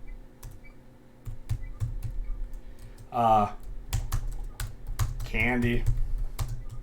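Fast clattering keystrokes on a computer keyboard tap on steadily and close by, while someone briefly speaks over the typing.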